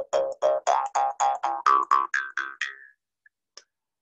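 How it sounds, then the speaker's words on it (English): A wooden Philippine jaw harp held against the lip, plucked in a quick run of about eleven twangy, vowel-like notes that rise in pitch, then fading out, followed by a couple of faint clicks. "These are wooden jaw harps from made in the Philippines."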